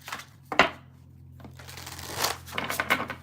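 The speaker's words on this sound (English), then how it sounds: "Shuffle, shuffle, shuffle." Tarot cards being shuffled by hand up close, a quick riffle then a longer run of papery flicks and slides, with no talking over it.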